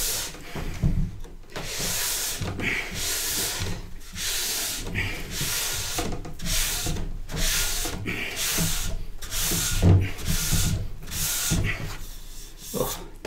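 A cork block rubbed back and forth over a waxed snowboard base during tuning, a close, rhythmic series of rough scrubbing strokes, about a dozen passes with brief pauses between, no voices.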